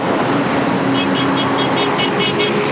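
Car traffic on São Paulo streets: a constant roadway roar of passing vehicles with a series of short car horn toots repeating in the second half.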